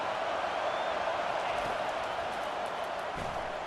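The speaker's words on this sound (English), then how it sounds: "We got the crowd rocking." A stadium crowd in College Football 25 roars steadily through a Nebraska Cornhuskers vs Colorado game on third and long, a dense, continuous wash of cheering noise with no breaks.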